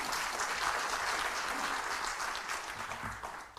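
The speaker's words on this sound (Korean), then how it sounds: "여러분 큰 박수로 부탁드리겠습니다" Audience applause fills a political party lecture hall as a young party leader is welcomed to the stage, a steady dense wash of many hands clapping at moderate volume, continuous throughout with no voices over it.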